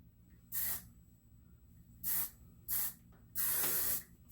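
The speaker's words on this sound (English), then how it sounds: "spray this texture spray all kind of through it." A can of hair texture spray gives four sharp hissing bursts into curly hair. The first is short, the next two are brief and close together, and the last is longer. There are quiet pauses in between and no talking.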